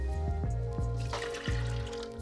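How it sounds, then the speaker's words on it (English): Water pours into a blender while making a gin and lime cordial, a short close trickle with soft drips and splashes over a steady background hum. "Next, add a cup of water."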